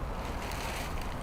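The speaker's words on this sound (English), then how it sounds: "It's a nice windy day today." Wind on a breezy day, a brief, steady, low rushing buffet against the microphone with no other sounds.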